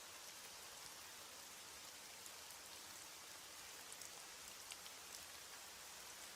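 Steady rain falls at night, a dense, even hiss of drops on surfaces that holds constant throughout, with occasional brief louder drips and no voices.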